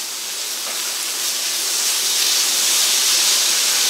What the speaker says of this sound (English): we're going to carry on frying these until they're nice and soft